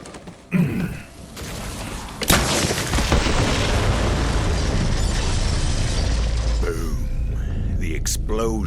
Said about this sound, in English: Explosion echoed through the forest